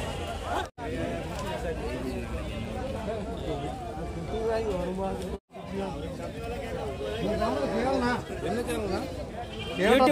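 Goats and sheep bleat repeatedly over a dense crowd of chattering voices at a busy livestock market in Tamil Nadu, the calls rising and falling amid the steady babble of traders.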